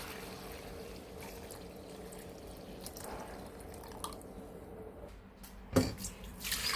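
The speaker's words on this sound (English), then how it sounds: "So this is the second time of sieving it." A hibiscus and clove liquid mixture trickles and drips through a sieve, quiet and continuous, ending with a few louder splashing pours.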